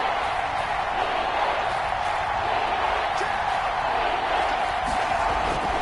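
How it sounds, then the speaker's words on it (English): A stadium crowd in the Madden 22 football game keeps up a steady, broad roar that stays even throughout as a big third down approaches. "the crowd getting into it as we come up on a big 3rd down"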